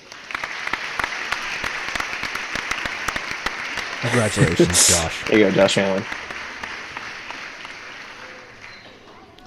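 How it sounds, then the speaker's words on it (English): A canned applause and crowd sound effect played during a fantasy football award show, a burst of clapping and cheering swelling for a few seconds over steady background noise while hosts keep talking. "I got a little applause sound effect."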